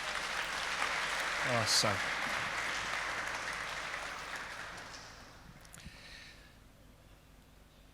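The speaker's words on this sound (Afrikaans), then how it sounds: "kom ons gee vir hulle weer 'n lekker hande klap" A church congregation claps together at a Sunday service, a fairly soft, steady patter that fades out, with a voice briefly heard.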